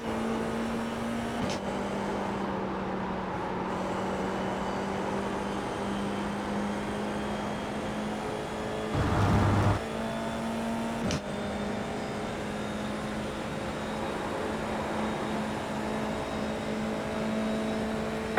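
An F4 race car is driven hard, its engine droning loud and steady from inside the cockpit, with a brief bump or shift mid-run and no talking.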